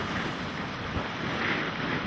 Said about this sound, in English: Waves are getting worse, buddy.